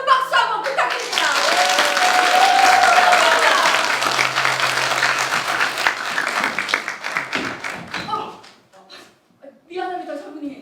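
Audience applause at a stage play performance, a loud sustained burst of clapping from the crowd that fades after several seconds, with voices speaking over it and continuing afterward.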